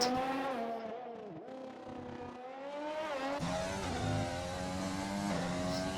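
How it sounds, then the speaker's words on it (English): A Honda-powered AlphaTauri Formula 1 car in a racing game sings at high revs, its smooth, loud engine note dipping and climbing through gear changes and rising in pitch as it pulls away, with no talk over it. "Listen to that roar of the Honda engine"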